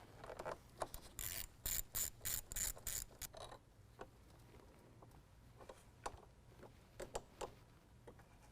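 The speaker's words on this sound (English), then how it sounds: "first thing we're going to do is open our hood and disconnect our negative terminal" Ratchet wrench loosening the negative battery terminal on a 2015 Ford F-150, a run of quick close clicking bursts followed by slower, sparser ratcheting clicks, quiet and alone.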